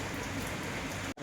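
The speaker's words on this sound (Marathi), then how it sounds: "तर पाऊस सारखा असा चालूच आहे" Steady monsoon rain falls continuously at home, a dense even hiss of drops on surfaces that holds at one level before cutting off abruptly at the end.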